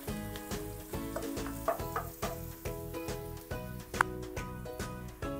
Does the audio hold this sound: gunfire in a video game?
no